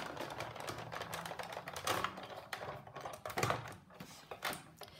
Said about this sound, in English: I'm going to run it through the Big Shot like this.